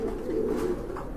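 Low pigeon cooing carries through a 1.2-second stretch, a steady murmuring hum from birds kept for sale by a local pigeon dealer, moderately close and without any talk over it.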